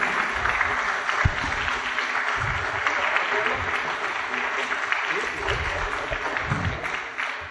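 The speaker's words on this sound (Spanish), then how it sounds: "hay que darle un fuerte aplauso a nuestro hermano comandante" Listeners at a talk on the Nazca mummies give a retired air force commander a long, steady round of clapping, dense and fairly close, with faint voices mixed in underneath.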